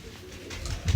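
Blue pigeons kept in a loft coo softly, with a low throaty murmur that swells toward the end of a very short moment.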